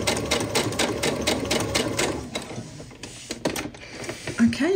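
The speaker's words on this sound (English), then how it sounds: "starting at the beginning, the very edge rather, of the fabric, and sewing along that line that we drew" A sewing machine stitches along a drawn line on fabric for a Christmas ornament coaster, its rapid mechanical chatter loud and close before slowing and stopping into quieter handling noises.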